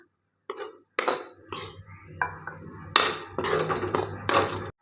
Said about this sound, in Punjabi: ਹੁਣ ਆਪਾਂ ਲੋਕੀ ਨੂੰ ਕੜਾਹੀ ਦੇ ਵਿੱਚੋਂ ਕੱਢ ਲਾਂਗੇ ਤੇ ਉਸੇ ਭਾਂਡੇ ਵਿੱਚ ਆਪਾਂ ਕੱਢ ਲਾਂਗੇ